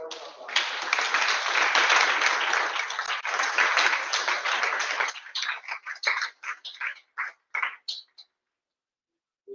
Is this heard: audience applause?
yes